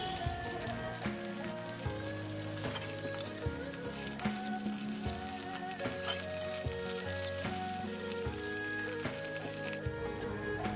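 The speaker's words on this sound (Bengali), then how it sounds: "পটলগুলো সুন্দর করে ভেজে নেব।" Sliced pointed gourd (potol) fries in oil in a pan with a continuous close sizzle, while soft music plays underneath and no one speaks.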